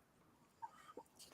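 A single sharp human sneeze bursts out close at the very end, after a brief quiet pause with a few faint small vocal sounds.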